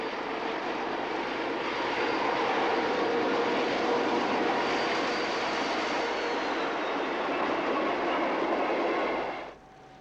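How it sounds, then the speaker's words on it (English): A South Australian 930 class diesel-electric locomotive hauls a train, giving a loud, steady, broad engine roar and rumble that holds for about nine seconds, then drops away abruptly to quiet at the end. "they were hauled to Melbourne by a South Australian 930 class diesel electric locomotive"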